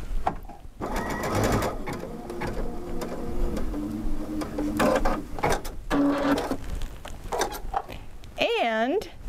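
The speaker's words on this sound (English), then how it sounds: "when we stitch, we're going to do the button sewing stitch. At the end, it's going to clip the thread automatically" A computerized sewing machine works through a button-sewing stitch with mechanical whirring and clicking and ends with an automatic thread-clipping snip. A person talks throughout over the machine.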